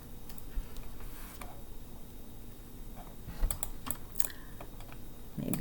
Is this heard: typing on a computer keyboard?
yes